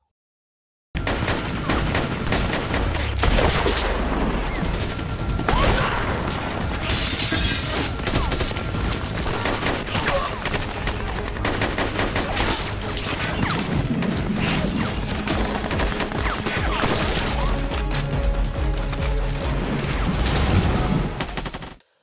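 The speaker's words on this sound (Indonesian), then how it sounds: "Diawali dengan tembakan musuh yang berhasil mengenai seorang pengintai, disusul Brandon yang berhasil mengenai sasaran" Loud, continuous gunfire from a war film sniper battle, with enemy sniper shots and a heavy exchange of fire layered with crashes and bursts that fill the whole stretch with no pauses.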